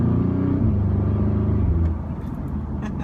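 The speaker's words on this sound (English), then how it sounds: "Let's drop it down a couple of gears. You can hear it rumble a little bit." A 2015 Audi S3 engine rumbles low and steady in a low gear, idling with a deep throb, then eases off slightly into a rougher, quieter burble.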